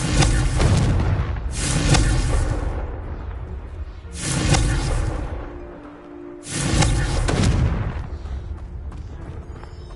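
Three loud booming blasts from the Confringo fire spell in the Hogwarts Legacy video game, evenly spaced a couple of seconds apart, each with a whooshing burst and rumbling decay.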